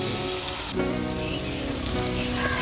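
Spice paste for katla fish rezala sizzles steadily in hot oil in a pan, a dense continuous frying crackle with a brief stir partway through, no voices.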